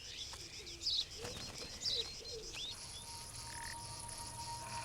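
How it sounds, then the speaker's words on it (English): Azure-winged magpies call in the open with two short, harsh bursts, set against a steady bed of insect chirring and a few fainter bird notes at a distance. "like these azure-winged magpies, which are found only here and in parts of Asia"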